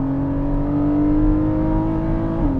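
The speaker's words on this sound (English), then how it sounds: "And listen to that 4-liter flat 6 engine" A 2021 Porsche 718 Cayman GTS with its 4.0-litre flat-six revving hard through corners, a loud, steady, rising engine note close by, heard alone with no talk.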